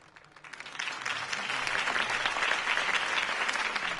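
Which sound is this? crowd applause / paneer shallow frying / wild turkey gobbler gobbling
crowd applause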